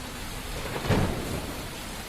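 Heavy monsoon rain and a thunderstorm in Mumbai, a dense steady roar of downpour with a low thunder rumble swelling near the middle, no voices.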